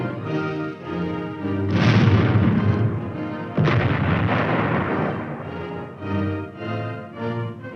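A 76mm tank gun firing in 1950s US Army footage, heavy booming blasts over a sustained musical score, with a strong report near two seconds and another around three and a half seconds.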